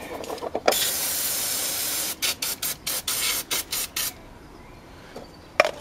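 Cleaner sprayed onto Hyundai i20 engine parts with a loud aerosol can: one long continuous hiss, then a rapid series of about eight short bursts, close and alone.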